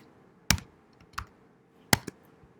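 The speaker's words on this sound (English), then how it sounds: "just type it in" A handful of quiet keystrokes on a computer keyboard come as sparse, separate clicks in pairs with near silence between them.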